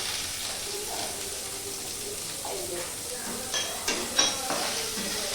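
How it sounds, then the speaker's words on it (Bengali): Onions and garlic frying in a pan over a lowered gas flame give a steady soft sizzle, with a few sharper crackles and stirring scrapes near the end. "এই দেখো পেঁয়াজ দিয়ে একটু ভেজে নেবে।"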